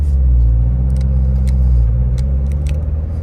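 A Chevrolet Corvette C7 Z06 engine gives a low, steady drone with a brief rise in revs as it rev-matches on a downshift, loud and close, with no talking.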